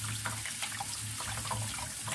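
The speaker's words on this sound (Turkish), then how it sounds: "Artık onları yıkayacağız." Water runs from a kitchen tap as food for kısır, a bulgur salad, is washed in the sink, a steady close splashing stream with uneven gurgles, and no voices.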